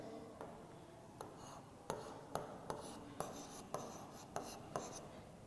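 Pen writing words in a notebook during a class-3 English lesson, with faint, steady scratching strokes and regular small taps, close and quiet.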